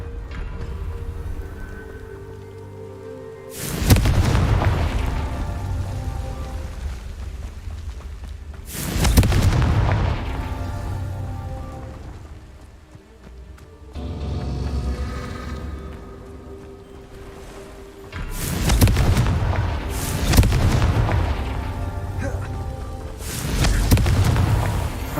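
Confringo spell explosions go off in a Harry Potter video game: about five or six heavy booms at uneven intervals, each bursting loud and then rumbling away into quieter background.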